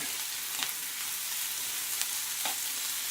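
Onions frying in a pan for a chicken spinach curry give a steady, quiet sizzle, with a few soft scrapes and taps as they are stirred.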